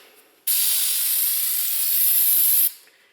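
Aerosol brake cleaner sprayed onto a new, preservative-coated front brake rotor on a Nissan Altima, a single loud, steady hiss lasting about two seconds that starts and cuts off abruptly.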